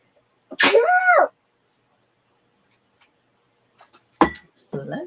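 A single sharp sneeze close up, followed by quiet and a few faint clicks and small sounds.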